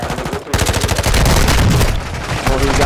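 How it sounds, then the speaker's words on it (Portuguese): Rapid gunfire from an enemy in Call of Duty: Modern Warfare II, a dense automatic burst of loud, continuous shots following a short lull, with faint voices underneath. "tem cara de longe atirando em mim"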